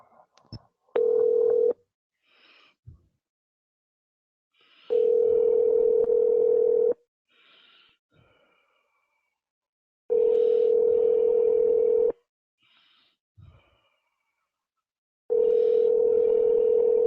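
A telephone call is placed: a steady dial tone comes in repeated two-second bursts separated by quiet gaps and faint keypad clicks, near and clear.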